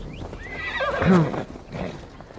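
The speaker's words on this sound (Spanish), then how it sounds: "Caballo." A horse in the game Assassin's Creed Valhalla lets out a loud whinny that climbs and falls, close and clear, with faint hoof clops underneath.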